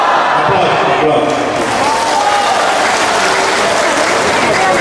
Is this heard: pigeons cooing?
no